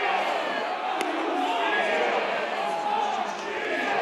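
Crowd at a USC vs North Carolina college baseball game cheers and roars steadily, a dense, sustained wash of voices filling the whole stretch with a slight dip near the end.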